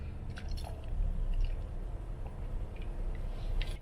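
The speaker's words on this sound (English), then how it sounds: "let's drink some water before I go in." A person drinks water in a parked car outside a lab building, with soft close gulps and swallowing sounds over a steady low engine or road rumble.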